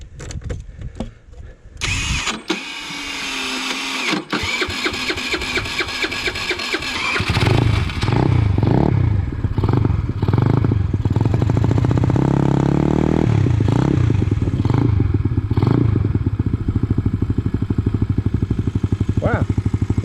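A 50cc GY6 scooter engine with an upgraded carburetor cranks and fires after a few seconds of starter whir, then settles into a steady, close, buzzing idle that runs on alone.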